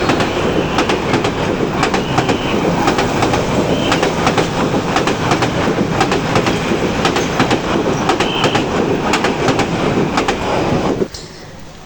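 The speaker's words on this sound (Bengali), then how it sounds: "হঠাৎ করে ট্রেন আসে" A train rolling past a railway station beside a seasonal Eid cattle market, loud and close, with continuous rumble and rhythmic clickety-clack of wheels over rail joints that cuts off abruptly near the end.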